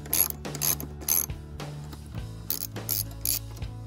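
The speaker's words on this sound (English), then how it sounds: "So we remove the cowling latch" A ratchet wrench clicks while a cowling latch is removed from a Mercury XR4 two-stroke 150 hp outboard engine, giving close, loud bursts of rapid clicking separated by short pauses.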